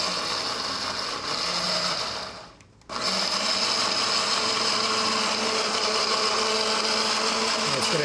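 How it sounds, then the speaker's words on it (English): A kitchen blender pureeing a green jerk marinade with rum, a loud steady whirring grind that cuts out briefly for a moment, then starts again and runs on evenly to the end. "We're going to puree it."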